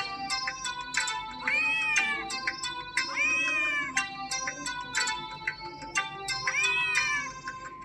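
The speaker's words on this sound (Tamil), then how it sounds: "meow meow பூனையார்" Repeated, drawn-out cat meows ring out loudly in a children's Tamil rhyme about a cat, sitting over a steady musical backing.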